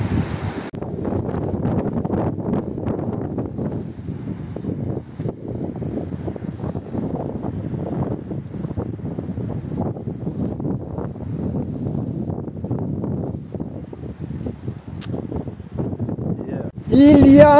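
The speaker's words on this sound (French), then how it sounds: "Il y a un vent de dingue!" Steady roaring wind buffets the microphone outdoors at a castle in Greece, a dense low rumble with gusty fluctuations, and a voice briefly cuts in near the end.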